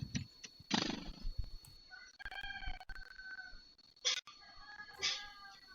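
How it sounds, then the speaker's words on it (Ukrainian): Roosters crow outdoors in Ukraine at a moderate distance, two or three drawn-out calls in succession amid faint rustling and background noise. "Півні співають"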